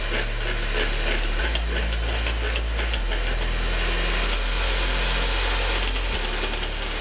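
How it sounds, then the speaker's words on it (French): An electric whisk whipping cream into chantilly for a banoffee Christmas log, a loud steady motor whir close by, shifting pitch as the beaters work through the thickening cream. "Là, on va fouetter au maximum pour obtenir une crème chantilly"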